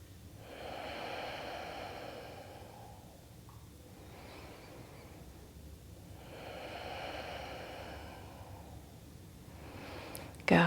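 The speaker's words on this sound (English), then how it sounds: "Long breaths." Slow, deep breaths during a Hatha yoga class, long soft inhales and exhales repeating quietly in a calm room, faint and unhurried.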